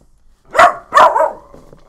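A dog barks twice in quick succession, close and loud, with a short trailing whine after the second bark.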